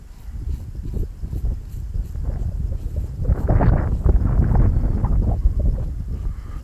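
Wind in a vineyard gusts across the microphone as a rough, rumbling buffet. It swells louder midway and then eases, with no talk over it.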